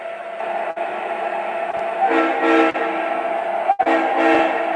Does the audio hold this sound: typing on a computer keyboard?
no